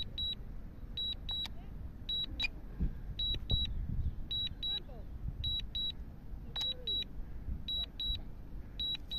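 A DJI Mini 2 drone controller sounds its maximum altitude warning, short paired high beeps repeating in a regular pattern under breezy outdoor rumble and someone talking.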